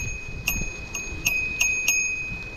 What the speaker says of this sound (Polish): a dzwoneczek